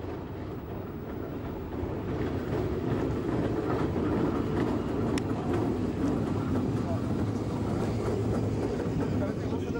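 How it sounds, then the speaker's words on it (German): An old Berlin S-Bahn train, nearly seventy years old, pulls into Spindlersfeld station with a loud, steady rolling rumble that swells after about two seconds and holds to the end. "Einfahrt in den Bahnhof Spindlersfeld."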